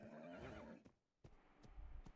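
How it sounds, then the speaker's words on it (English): A donkey in the Red Dead roleplay video game gives a loud, close, wavering bray lasting under a second, followed after a brief pause by scattered hoof clops with no talk. "they got a donkey. no, it's a donkey."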